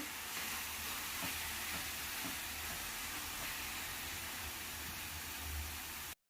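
A coconut and jaggery mixture frying in a pan for traditional coconut laddu, giving a steady close hiss and sizzle throughout with no talking.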